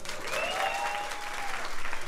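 A comedy roast crowd in Colombia bursts into continuous applause, loud thick clapping and a few whistles filling the room for two seconds.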